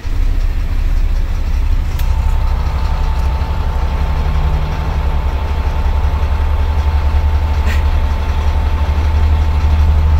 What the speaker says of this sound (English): Can you turn the engine off for me for a sec?